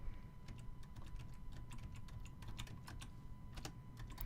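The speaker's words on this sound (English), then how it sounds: "I'll just type in Madagascar fires." Quick, irregular clicking of keys on a computer keyboard, a close run of light taps with brief pauses over a faint steady hum, and no one speaking.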